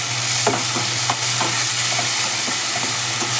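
Chopped fenugreek leaves fry in hot oil, a steady bright sizzle with a low hum beneath, punctuated by soft regular scrapes of stirring, close up with no talk.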